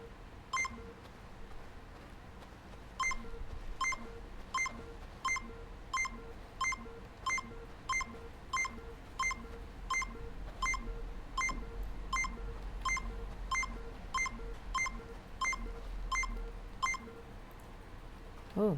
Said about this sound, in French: Alors, détecteur de métaux.